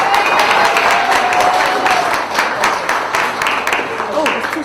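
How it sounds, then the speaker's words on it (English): Applause rises from an audience at a poetry and performance event, loud mixed clapping with some cheering, tapering slightly midway while a voice speaks faintly over it. "give her a round of applause one more time"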